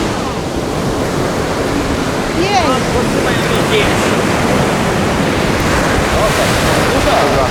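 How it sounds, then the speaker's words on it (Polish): Strong wind buffeting the microphone over the rush of surf on a Baltic Sea beach, a constant roar with no clear speech. "No, wiatr nam trochę przeszkadza"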